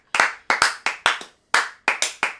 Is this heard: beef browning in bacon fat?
no